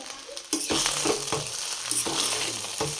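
Rice fries with black pepper powder in a pan, sizzling steadily while a spoon scrapes and stirs through it in repeated strokes up close.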